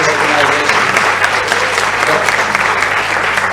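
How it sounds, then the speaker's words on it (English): Audience applause at a choir and music group's annual programme, dense continuous clapping from a sizeable crowd, loud and sustained throughout. "So if we can have a round of applause for the"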